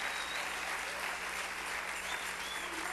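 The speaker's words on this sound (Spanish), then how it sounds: "denle un aplauso al rey" A church congregation claps in sustained, dense applause, a steady wash of many hands that carries on throughout without speech.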